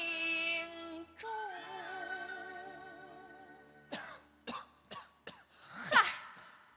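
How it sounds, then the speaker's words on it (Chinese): Several short, sharp coughs break in during a Pingju Chinese opera performance, following a long sustained sung and instrumental passage, with four or five distinct bursts close together near the end. "竟连这咳嗽的动静"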